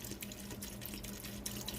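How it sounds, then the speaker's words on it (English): Chicken broth pouring into an Instant Pot over potatoes, a steady low splashing trickle running continuously without pause, quiet and close. "I'm gonna add some broth. And I basically just add it until I cover all the potatoes"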